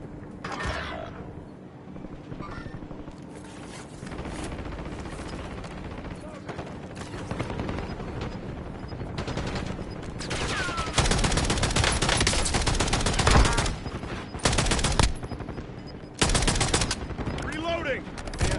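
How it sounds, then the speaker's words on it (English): Gunfire rings out in the Call of Duty: Warzone Resurgence mode, starting with scattered shots and building into dense automatic bursts and rapid volleys, with short pauses between loud sustained strings of fire and game voice callouts in between. "Taking effective fire"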